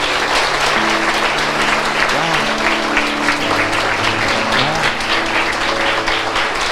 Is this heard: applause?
yes